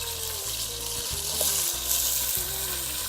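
Marinated cowfoot sizzling loudly as it drops into a hot pressure cooker for a traditional Jamaican dish, a steady broadband fry with a few stirring scrapes and faint tonal hum beneath.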